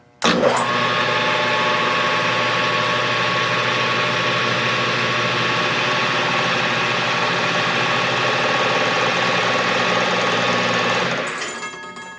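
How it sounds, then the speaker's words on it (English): A small home-built lathe runs steadily for about eleven seconds, a close, even mechanical drone with a faint rattle, starting abruptly and spinning down at the end. "Lathe has been running."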